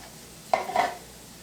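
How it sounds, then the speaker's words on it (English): Batter of Bisquick baking mix and whole milk stirred in a bowl, a short pair of wet scraping strokes, close and quiet against a faint background hum. "And you just mix this till it forms a dough."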